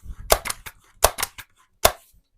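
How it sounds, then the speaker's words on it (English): A Daisy Powerline 901 air rifle is cocked, pumped and dry fired, giving three bursts of sharp mechanical clacks and clicks, each a quick cluster of two or three hits, close up with quiet gaps between. "I'm going to cock it and just do a few pumps with just dry fire in it."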